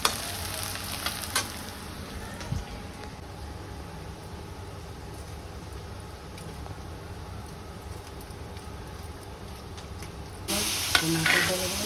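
Tomatoes sizzle in a hot pan with turmeric, chili, salt and masala while being stirred in a home kitchen, a steady close frying hiss with occasional stirring scrapes and a louder burst of sizzling near the end.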